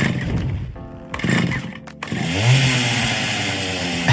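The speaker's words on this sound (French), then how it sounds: "c'est bien le bruit de la tronçonneuse du légendaire Leatherface du film Massacre à la tronçonneuse" Chainsaw of Leatherface from the horror film The Texas Chain Saw Massacre, a loud revving engine that sputters, cuts out briefly, then roars back up into a sustained high whine with a rising pitch sweep.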